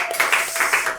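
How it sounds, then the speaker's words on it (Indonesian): A brief patter of audience clapping greets a guest on an Indonesian podcast about Pilates in Jogja, several quick bursts of hands in a small room. "Tepuk tangan dong teman-teman semuanya."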